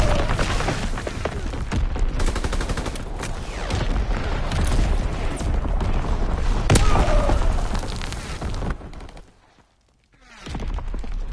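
A Fritz X guided bomb strike in Call of Duty WWII, loud rolling blasts and rapid gunfire rumbling continuously for several seconds, then cutting off to near silence before the battle noise returns.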